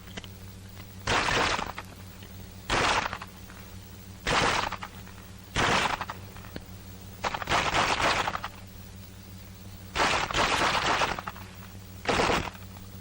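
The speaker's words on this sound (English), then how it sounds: "With the rifle, you battle fire from the hip." Rifle shots fired from the hip during close combat firing practice ring out in eight sharp bursts spaced about every second or two, each loud crack followed by a brief decaying tail over a quiet hum.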